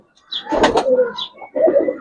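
Giribaz pigeons in a loft give soft, throaty coos in two close bursts separated by a brief pause, heard nearby and clearly with no voices over them.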